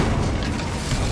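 The Incendio fire spell in Hogwarts Legacy, a short, dense, loud rushing roar of flame with a booming low body, lasting about a second with no voices.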